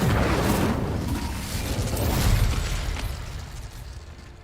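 A fire spell cast in Hogwarts Legacy bursts into a loud, rumbling whoosh of flame, a dense broadband roar that swells around the middle and then fades out over several seconds, with no talking.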